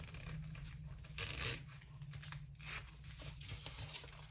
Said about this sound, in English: Take the tape off the bottom.